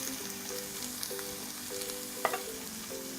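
Ground cumin, coriander powder and Kashmiri chili powder fry in a pan of potato curry, giving a steady close sizzle with soft stirring scrapes and one sharper clink of the spoon, with no talking.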